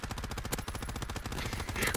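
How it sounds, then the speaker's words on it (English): Gunfire in Call of Duty WWII: a rifle round goes off amid a dense, rapid stream of shots, loud and steady across the short stretch, with distant battle noise underneath. "Shot my rifle round off."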